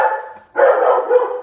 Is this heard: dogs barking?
yes